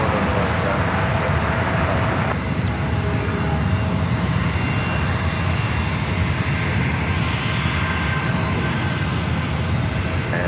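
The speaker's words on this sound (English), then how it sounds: "Qatar Airways, the A350-1000 flight heading back to Doha." A Qatar Airways Airbus A350-1000 jet departing San Francisco airport, its engines making a loud, steady roar for the whole stretch, heard from a distance with no pause.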